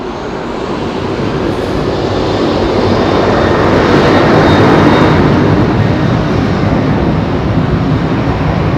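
A KLM Boeing 747 at Heathrow spools its engines up slightly, giving a loud, continuous broadband roar that swells gradually toward the middle and then holds steady, with no voices.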